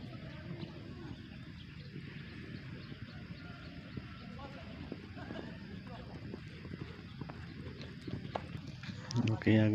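Racehorses arrive for morning training at the H.M. Hasan Gayo racecourse in Takengon, their hooves clip-clopping faintly and irregularly on the ground beneath a busy outdoor murmur and people talking.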